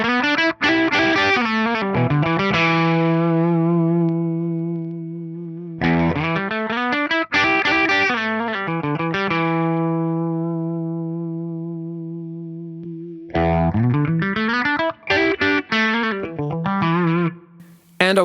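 Electric guitar played through an Axe-Fx III on a JCM 800 amp model, loud distorted rhythm chords ringing out in repeated phrases with long sustained decays between strums.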